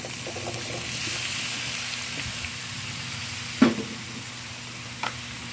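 Chopped onion, garlic and chili sizzling in a hot pan for a seafood dish: a steady frying hiss throughout, with two sharp spatters or utensil knocks near the end.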